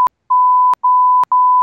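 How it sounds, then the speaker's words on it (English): A censor beep of the kind used to cover swearing: a loud, pure, steady tone sounds three times in a row, each long beep cut by a brief click and gap, with no voices. "you know how when someone swears in your video, you have the beep?"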